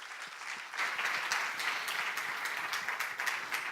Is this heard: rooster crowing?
no